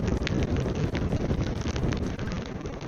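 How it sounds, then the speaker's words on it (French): Strong, blustery wind buffeting the microphone in a constant roar, with a pattering of rain underneath, while fishing in Finland. "Il y a beaucoup de vent et il pleut."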